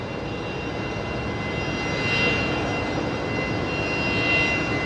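A Qatar Airways jet arriving at Brisbane Airport gives a steady, broad engine roar that swells gently as it passes nearby, continuous and loud with no talking.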